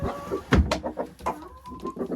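Hens in a henhouse beside their nest boxes give a few close, short clucks and murmurs, one sharper call standing out, with light knocks and rustling between them.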